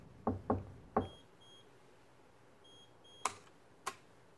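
Knuckles rap a door fitted with a vibration sensing lock in a deliberate sequence: three quick knocks, a pause, then two more spaced knocks, each crisp and close, with faint electronic beeps in between.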